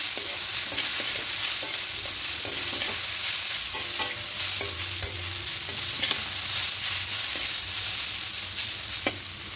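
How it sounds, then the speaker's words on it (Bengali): Continuous sizzling of broken wheat frying lightly in a pan, with periodic scrapes and taps of a spoon stirring, close by and without speech. "এবার ডালিয়াটা দিয়ে খুব হালকা করে ভেজে দেবো।"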